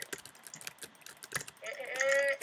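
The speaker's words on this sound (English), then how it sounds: "Sorry if my clicking is so loud." Rapid clicking during a Minecraft session: quick, irregular taps of a keyboard and mouse up close, fairly quiet, with a voice briefly speaking near the end.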